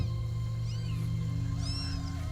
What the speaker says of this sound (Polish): Brzmi jak kot.